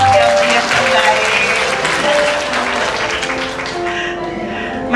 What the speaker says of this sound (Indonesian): Tepuk tangan dong yang terbaik.